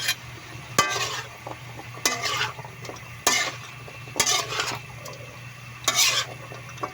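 Carrots and potatoes go into a pot of Filipino menudo, with several separate bursts of stirring, clattering and sizzling over a steady low hum.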